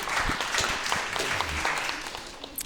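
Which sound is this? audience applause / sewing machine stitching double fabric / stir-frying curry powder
audience applause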